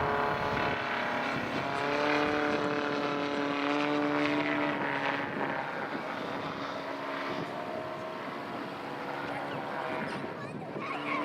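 A radial-engined two-seat Yak-50 aerobatic aircraft flies overhead at an air display, its loud, droning propeller engine steady throughout with a slight shift in pitch as it passes.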